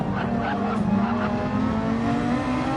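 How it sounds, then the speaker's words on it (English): A race car in a Daytona racing video game drives flat out in top gear, its engine a loud, steady high drone with faint tire noise, continuous and close throughout. "Into top gear, flying down the back straightaway at Daytona"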